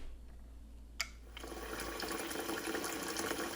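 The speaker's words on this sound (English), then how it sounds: "I'm washing the mint in plenty of cool water" Mint leaves are washed in plenty of cool water, a soft steady gush of running water starting after a sharp knock and continuing as a faint, even splash.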